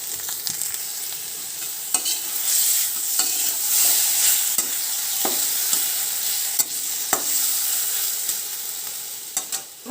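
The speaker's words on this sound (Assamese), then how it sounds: "অলপ ভাজি লওঁ" Tomato paste fried with cumin, turmeric and chilli powder sizzles steadily in a pan, with a continuous hiss broken by sharp clicks and scrapes of a spoon stirring the paste; no voices are heard.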